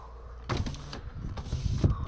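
A 2018 Toyota RAV4 Hybrid's rear electric window motor hums in short bursts, with faint mechanical whirring and a thud near the end.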